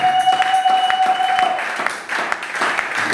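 A church congregation at a New Year's Eve service applauding to acclaim the Lord, sustained loud clapping with a brief dip, a steady tone held beneath it early on.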